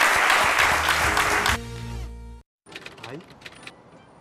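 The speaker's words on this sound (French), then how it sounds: "on vous applaudit très fort" A studio audience at a midday television show claps loudly for about a second and a half, then the sound cuts to quieter background noises with brief gaps.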